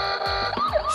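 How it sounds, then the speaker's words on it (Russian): A toy ride-on car's electronic siren wails close and loud in a short burst, its pitch sweeping up and down with a buzzy synthetic tone and no talking. "Сирены."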